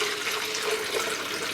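Tap water runs steadily into a container for hydroponic indoor gardening, a continuous close hiss and splash with no pauses.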